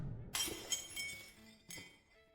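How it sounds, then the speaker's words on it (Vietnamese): A crisp glass-shattering crash sound effect: a sudden bright smash followed by tinkling debris, then a second, smaller breaking crash before it trails off. "một tiếng đổ vỡ giòn tan phá tan sự tĩnh lặng của buổi trưa"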